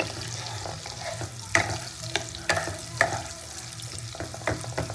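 Capsicum stirred in a hot pan for dhaba-style chilli chicken gives a low, soft sizzle broken by several distinct scraping, clinking strokes of the spoon, fairly close, with nobody speaking.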